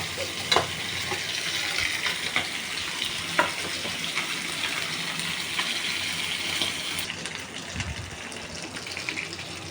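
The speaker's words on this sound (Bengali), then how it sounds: "এবার ভালো করে মশলাটা কষিয়ে নেব" Continuous sizzling of spices stir-fried in a pan for a pangas fish curry, with occasional scraping stirs and clinks of a utensil, close by.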